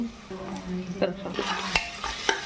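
Turmeric is stirred into a sizzling mixture of onions and ginger-garlic paste for tomato rice. Spoon scrapes and taps against the pan recur over a steady frying hiss, close and clear, with no talking.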